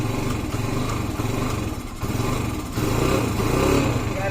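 A Motorstar Classic motorcycle under restoration runs at a steady idle, a close, loud, buzzing small-engine drone that holds even throughout and swells slightly toward the end, with no talking.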